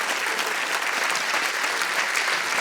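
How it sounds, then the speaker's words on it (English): A live audience at a literary conversation event breaks into sustained, dense applause: close, even clapping from many hands that holds steady throughout. "large round of applause"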